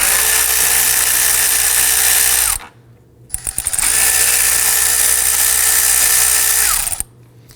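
A power ratchet or impact tool zips out two 10mm bolts on the cooling fan shroud of a 2005-2009 Subaru Legacy 2.5L, two loud sustained whirring bursts of about three seconds each, separated by a short pause with small clicks, close up with no talking.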